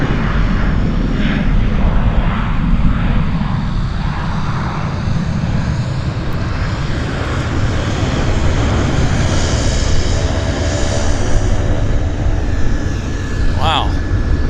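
A SkyWest Embraer jet at Vancouver airport, a steady, loud engine roar and rumble that stays constant throughout, with a person talking over it.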